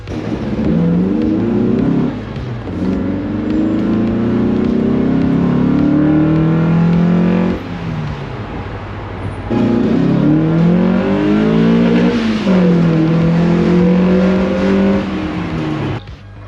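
A car engine running loudly nearby, revving up and down through the gears with rising and falling pitch, brief lulls between accelerations.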